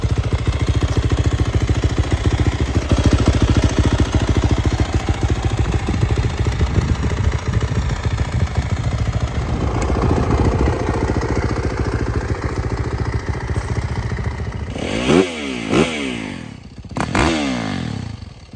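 A 2021 Yamaha YZ450FX motorcycle engine runs loud and close, a steady rough idle that gives way near the end to several sharp throttle blips rising and falling in pitch.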